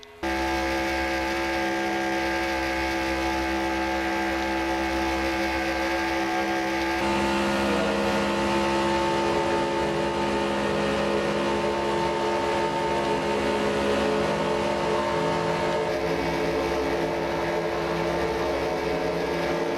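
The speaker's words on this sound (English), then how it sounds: "Let's listen in to how this truck sounds." Onboard engine of NRSL race truck number 83 in a Reebok Truck Series qualifying session, a loud, continuous droning roar with steady harmonics that shifts pitch slightly as the truck runs, with no talk over it.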